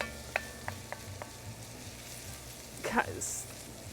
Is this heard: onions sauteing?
yes